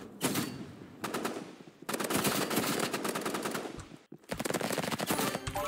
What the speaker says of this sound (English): I forgot he had a shotgun